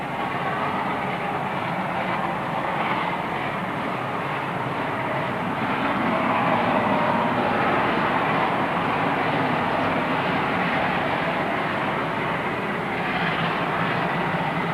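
A steady, heavy rumble of a GM AM Garratt steam locomotive double-headed with a Class 24 diesel passing at a distance, a continuous roar of engines and rolling wagons with no voices.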